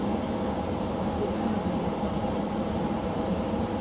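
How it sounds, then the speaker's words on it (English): Passenger train rolling slowly on rails toward Hawkesbury River in rain and fog, a steady low rumble and hum heard from inside the carriage, continuous and even with no talk. "Just speed up, you damn train."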